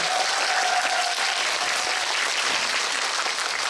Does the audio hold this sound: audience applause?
yes